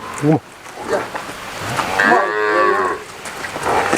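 A milking buffalo at a buffalo sale lets out a loud, drawn-out moo nearby, with a few shorter grunting calls before it and faint voices around.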